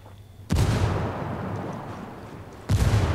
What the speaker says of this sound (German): Granate fliegt, wir sehen uns in der Hölle.